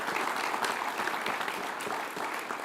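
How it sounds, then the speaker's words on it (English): An audience at a groundbreaking ceremony for a student-athlete performance center gives a steady, dense round of applause that holds evenly throughout. "Let's give them all a round of applause, ladies and gentlemen."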